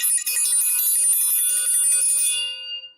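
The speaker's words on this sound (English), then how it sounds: "I'm ringing the bell for that." A single bell is struck once, and its bright, shimmering ring sustains loudly alone for over two seconds before fading quickly.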